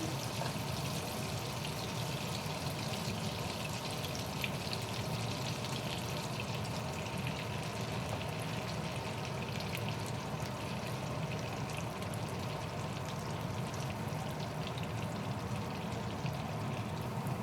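Sausage rolls wrapped in bread fry in a pan with a steady, dense sizzle and crackle that holds close and even throughout, with no talking.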